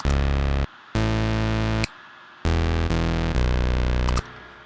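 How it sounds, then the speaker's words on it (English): A bright, buzzy Nexus dance lead synth preset plays a few sustained chords in short bursts, loud and distorted, with no voices. "I use a Nexus preset dance lead."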